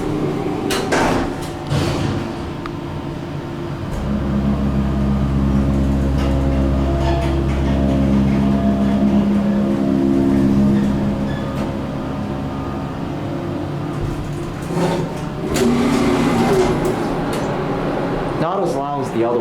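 An MEI hydraulic elevator's motor runs in a classroom building, a low steady hum that swells in the middle and then eases, with clunks and shuffling around it and a voice speaking over it.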